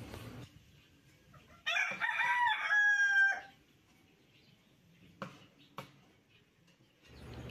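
A newly hatching chick chirps while pecking through its eggshell: a bright, high burst of peeping lasts a couple of seconds, followed by a few faint, brief ticks in an otherwise quiet room.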